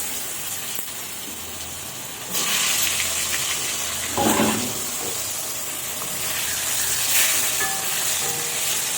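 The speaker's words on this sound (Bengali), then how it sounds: "একদম তেলে পুরো এটা ফ্রাই করে নেব সুন্দরভাবে।" Potato pieces with turmeric frying in plenty of hot oil, giving a steady loud sizzle and hiss throughout, with a clatter partway in and a brief burst of stirring.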